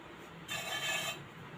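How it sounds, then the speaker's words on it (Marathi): A rolling pin presses out jowar paratha dough in one soft, brief rubbing sweep, close and faint, with no talking. "आपण लाटून घेऊया पीठ लावून घेऊया"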